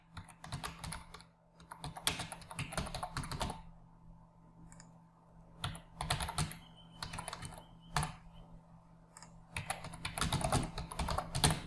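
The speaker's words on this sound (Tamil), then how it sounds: "நான் பார்த்தீங்கன்னா டைப் பண்ணுறேன்" Steady keyboard typing in bursts of quick clicks with short pauses between, close and moderately quiet, over a low steady hum.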